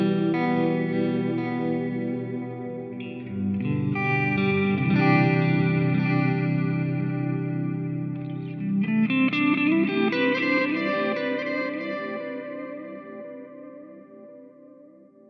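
Electric guitar played through the Harley Benton DNAfx GiT multi-effect on its Attack preset, ringing chords and sliding notes with chorus shimmer, light drive and lush reverb, loud and alone.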